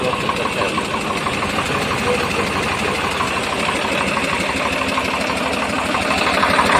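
A Swaraj 855 FE tractor's powerful engine idles close by, a loud, even diesel chug with a steady knocking rhythm throughout, no voices over it.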